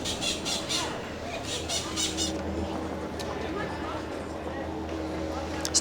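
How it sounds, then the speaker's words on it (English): Port Lincoln parrots give a run of shrill squawks early on, then fainter calls continue over steady outdoor background noise and faint voices. "A couple of gorgeous Port Lincoln parrots over there."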